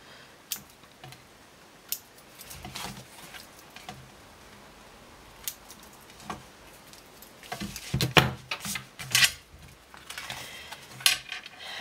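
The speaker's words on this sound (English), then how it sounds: "So we're cutting our threads." Scissors snip sewing threads in a series of sharp, close cuts, scattered irregularly with quiet gaps and a busier cluster of snips near the end, no talking.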